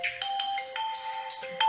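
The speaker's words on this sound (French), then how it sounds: "mon portable sonne" A mobile phone rings with a bright electronic melodic ringtone, a quick sequence of clear beeping notes, close and alone.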